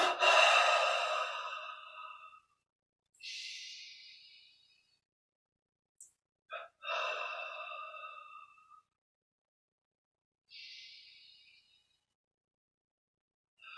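Slow, airy exhalations and breaths sound during a meditation exercise, several separate soft breaths with long silent gaps between them, close and quiet with no talk.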